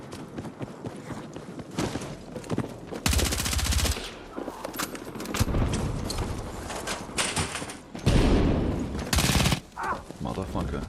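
Rapid bursts of gunfire in the Battlefield video game, loud machine-gun fusillades broken by pauses, with footsteps and a voice talking in between.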